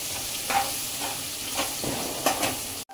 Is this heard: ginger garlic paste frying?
yes